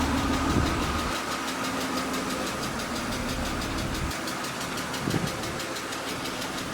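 A BMW 328i E36 engine with 154,000 miles idles steadily up close, with a quick, even ticking running through the low hum.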